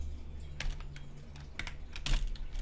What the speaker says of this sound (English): you want to type in your text first